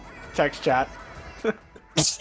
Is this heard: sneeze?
yes